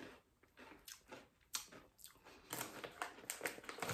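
Crunchy barbecue-flavored mini pig crackers are chewed close up, with irregular crisp crunches and bites that grow denser and louder toward the end.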